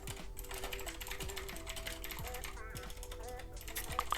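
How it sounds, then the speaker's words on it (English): Fast keystrokes rattle on a computer keyboard while coding a token reward feature for a Unity game, a steady stream of close, crisp clicks under faint background tones. "Wow, my typing's bad."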